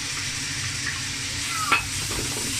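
Garlic frying in a pan for a pork shoulder stew, a steady close sizzle with a brief stir or scrape near the middle and no voices.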